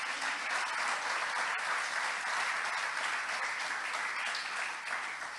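A church congregation claps loudly and continuously, a dense, even roar of many hands with no break from start to finish.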